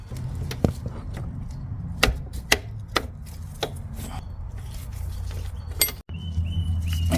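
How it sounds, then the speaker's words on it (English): A wrench works loose an 11 mm brake flare nut on the rear brakes of a 1967 MG Midget, producing a series of sharp metallic clicks and taps at uneven intervals over a low hum. "Now we're going to remove this flare nut, which is 11 millimeters."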